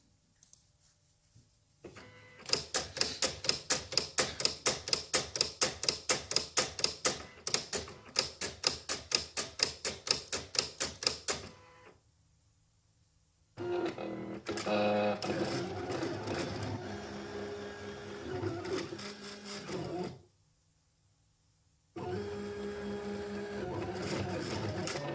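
Cutting machine slicing a DIY tag, first a quick rhythmic ticking and clattering run, then a brief pause before longer steady mechanical whirring passes separated by silences, fairly quiet and close.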